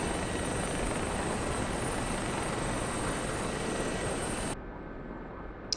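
Helicopter rotor and turbine roar in a DCS combat flight sim dogfight, a loud steady broadband whine that runs for most of the stretch and then drops abruptly to a thinner, muffled hum near the end.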